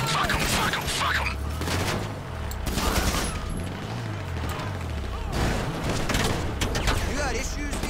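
Automatic weapons fire in GTA 5 Online in repeated bursts of rapid shots over a low rumbling bed. A voice talks in between the volleys.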